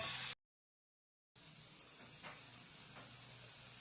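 Water poured into a hot wok sizzles during home cooking of a fish dish. A short loud burst cuts out briefly, then gives way to a faint, steady hiss.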